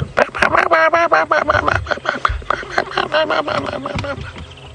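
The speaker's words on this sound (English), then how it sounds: "They're called arrow-marked babblers, and they're going." A noisy chorus of arrow-marked babblers chattering and calling over one another, harsh, rapid and fairly close, continuing without pause.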